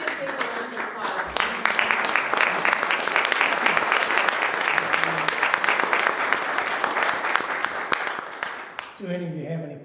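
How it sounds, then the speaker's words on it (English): A room full of listeners at a local history talk gives a long, lively round of applause, many hands clapping steadily and loud for nearly nine seconds before it stops and a voice follows. "Let's do a big round of applause."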